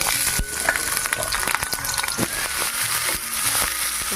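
Onion, tomato, green chilli, garlic and ginger fry in hot oil, making a close, steady sizzle and crackle broken by scattered clinks and scrapes of stirring.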